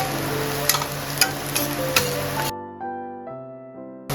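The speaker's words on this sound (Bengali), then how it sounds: "পেঁয়াজটাকে হাই ফ্লেমে লাল লাল করে ভাজতে হবে।" Chopped onions fry on a high flame and are stirred constantly for a prawn and taro dish, giving a dense, loud sizzle with a few utensil scrapes for about half the time before it gives way to steady tonal music.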